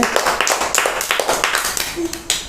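Children clap their hands in a Punjabi classroom lesson, a quick run of uneven, close claps with sharp taps over about two seconds, with a brief voice sound near the end.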